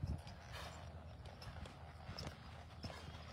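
An eight-year-old working horse walks on a farm, its hooves clip-clopping in a loose, uneven rhythm of faint, soft thuds against a low background hum.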